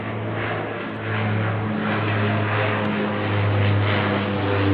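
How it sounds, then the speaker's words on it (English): Airplane flying overhead, a steady loud engine drone with a low propeller-like hum that holds throughout and swells slightly as it passes. "Here comes another plane over my head."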